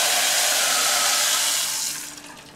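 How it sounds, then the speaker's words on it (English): Four cups of water poured into a hot pan of lightly browned noodles and rice, a loud hissing, sizzling rush that fades over the last second as the pour settles. "you're going to add the 4 cups of water"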